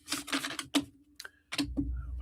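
Tarot cards are shuffled in a few quick, papery bursts of riffling and tapping, close and fairly quiet, with brief pauses between.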